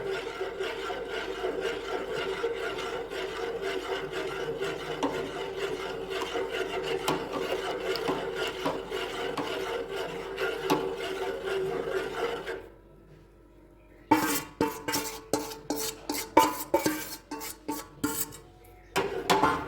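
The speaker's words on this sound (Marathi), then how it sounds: "आपल्याला याला आता शिजून घ्यायचं आहे पण आपल्याला असंच हलवत राहायचं आणि गाठी पडू द्यायच्या नाही" Rice flour batter for kurdai papad is stirred steadily in a pot, giving a continuous close scraping rub that breaks off and then returns as sharper, uneven scrapes and knocks.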